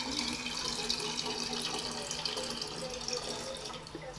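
Water running from a kitchen tap, a steady close hiss and splash that keeps going at an even level for the whole stretch.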